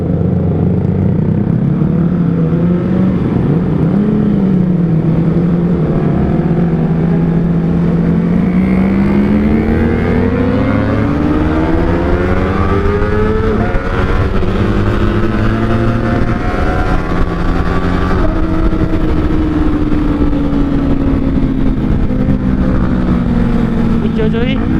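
A Kawasaki ZX25R motorcycle fitted with an R9 exhaust revs hard near a traffic light, its high-pitched four-cylinder wail climbing and falling through repeated throttle blips, loud and close, with a rider talking over it.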